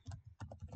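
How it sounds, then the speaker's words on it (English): Keys on a computer keyboard are typed in a short quick run of several close, distinct clicks and taps. "press enter on your keyboard"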